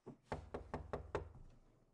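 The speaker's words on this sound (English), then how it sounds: "until you hear the knock at the door" Six firm knocks on a door in a quick, even rhythm, close and fairly quiet, with no voices.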